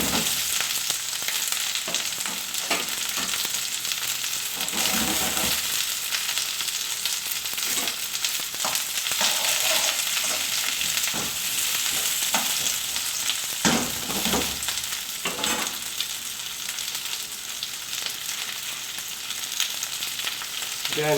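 Beef cooks in a hot wok for beef and black bean sauce, a small batch at a time. A loud, unbroken sizzle runs throughout, broken by bursts of tossing and spatula stirring, with no voices.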